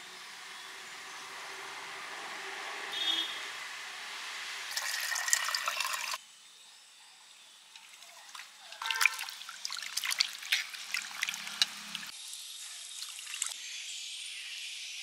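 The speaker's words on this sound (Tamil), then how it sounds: "முதல்ல வந்து சிக்கனை வந்து க்ளீன் பண்ணி கழுவி எடுத்துகிட்டு வந்துடலாம்." Raw chicken being washed under running water in a home kitchen, a soft trickling stream that comes in uneven bursts with short pauses and splashier moments, close by, with no talking.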